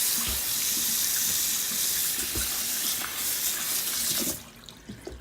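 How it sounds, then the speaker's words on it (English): Potatoes are rinsed under a running kitchen tap, and the water hisses steadily and close by for about four seconds. It then cuts off, leaving a few small splashes and knocks. "Rinse those off with some salt as well."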